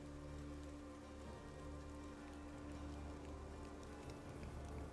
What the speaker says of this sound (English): The trees now give a little bit of respite from the faint rain that drizzles down upon you.